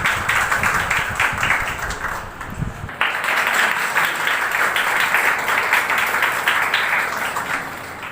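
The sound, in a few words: audience applause at a welcome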